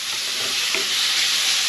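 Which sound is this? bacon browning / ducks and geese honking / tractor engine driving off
bacon browning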